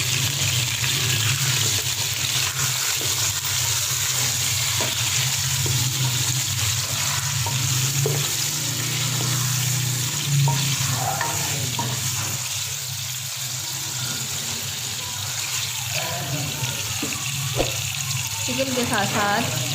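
Half a kilo of chicken fries in a pan for Bombay biryani, a steady loud sizzle with occasional stirring scrapes and clinks, and a voice talks over it at moments.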